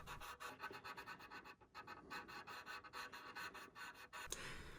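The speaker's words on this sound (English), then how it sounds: "go over the surface with a small piece of folded 600 grit" Folded 600 grit sandpaper works over the surface of a violin nut in quick, quiet, rhythmic scratchy strokes, close up and with no talk.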